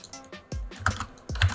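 Commands typed on a computer keyboard: a short burst of several crisp key clicks in an uneven rhythm, close and fairly quiet, with no voices.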